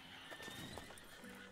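Horse in a Western open-world game giving a short whinny amid a few hoof clip-clops, heard up close and fairly quietly.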